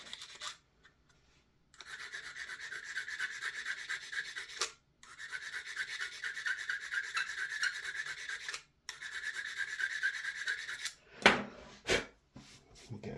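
Hand filing a chamfer on the edge of a part from a B&T GHM9-G airsoft gun, heard as close, steady rasping strokes in several long bursts separated by short pauses, ending with a few sharper scrapes.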